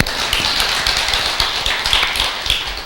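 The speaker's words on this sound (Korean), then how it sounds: "박수 한번 보내줘" Audience at a Buddhist monk's talk breaking into applause, a dense patter of many hands clapping close by, steady for about three seconds.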